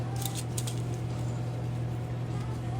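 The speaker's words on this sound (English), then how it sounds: "I use the shears to cut it down some" Shears snip through a wooden fruit bouquet stick, giving a few quick crisp cuts close by at the start, then a faint, low background hum continues.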